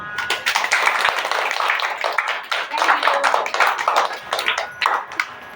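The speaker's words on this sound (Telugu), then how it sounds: "Give clap children." Children applauding at a birthday party, a dense, continuous patter of many small hands clapping together at close range for several seconds, with faint voices mixed in.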